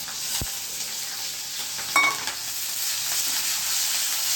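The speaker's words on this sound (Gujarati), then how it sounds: "આ સંભારો વઘાર્યો." Steady hiss of asafoetida and spices sizzling in hot oil as tempering for a chili relish, with a brief clink of a utensil.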